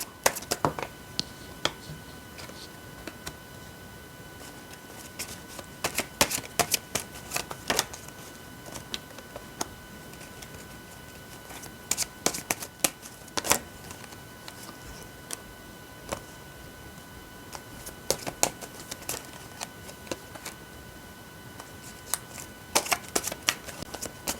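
Tarot cards are shuffled by hand for a reading, with irregular bursts of crisp riffling and flicking clicks scattered over about twenty-four seconds, close by and with no talking.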